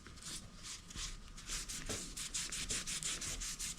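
Rhythmic, steady rubbing strokes as a motorcycle hand grip on a 2018-or-later Goldwing is wiped clean with isopropyl alcohol, close, continuous and fairly even in loudness, with no voices.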